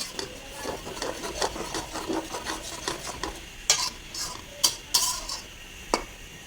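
A spoon stirs achari beef masala with chana dal in a pan, giving a run of close scraping strokes and sharp metallic clinks over a soft background sizzle.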